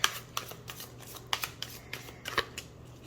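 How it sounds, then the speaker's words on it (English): A Bonefire Tarot deck being shuffled by hand, a series of crisp riffling flicks and soft card slaps coming in quick irregular bursts, close and fairly quiet. "Let me shuffle those back and let's see."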